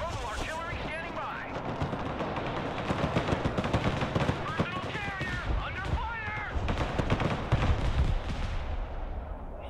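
Artillery fire in the video game Broken Arrow, dense booming and crackling barrages rumbling continuously under scattered game radio voices and effects.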